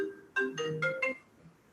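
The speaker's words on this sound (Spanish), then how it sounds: "aquí estoy silenciando mi teléfono porque me están llamando" An incoming call sets off a mobile phone ringtone, a short quiet melodic run of four bright tones lasting about a second, heard alone in an indoor lecture setting.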